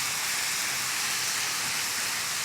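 Onions and mushrooms stir-fry in a pan cooked without oil, giving a steady, close sizzling hiss that runs unbroken, with no voices.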